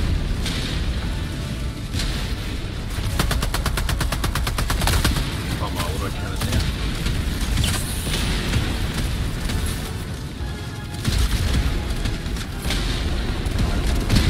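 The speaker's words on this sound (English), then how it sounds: "Careful, that barrage is still going." Sustained barrage of gunfire and explosions in the video game Helldivers 2, dense rapid bursts and booms rolling continuously throughout, loud and close, with voices talking intermittently over the din.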